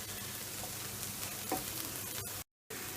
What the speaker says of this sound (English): We're just shallow frying the onions, garlic, leeks and the bacon.